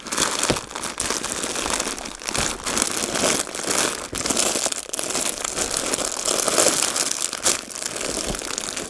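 Loud, close crinkling and rustling of plastic, continuous with irregular crackles as it is handled and rummaged through, no speech.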